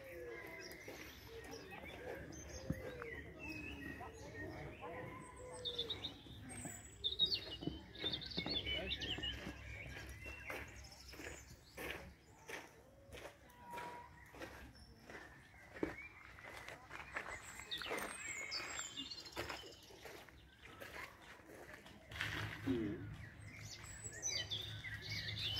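Birds chirp and tweet on Mainau island, with short scattered calls and some soft cooing coming from outdoors at a moderate distance, mixed with footsteps and quiet voices throughout.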